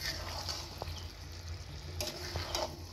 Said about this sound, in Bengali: এবার আমি একটু নেড়ে নেব।